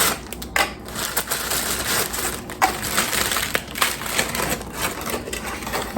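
Cookies or crackers being broken and crumbled by hand for a no-bake icebox fruitcake, a steady run of dry crunching and crackling snaps, close and fairly loud, with no talking.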